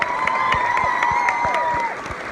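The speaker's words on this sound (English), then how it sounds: "You guys give our cast a nice big round of applause." Applause and cheering fill a large hall as a convention crowd acknowledges a cast on stage, steady clapping with a few scattered claps standing out, moderately loud, briefly under a voice.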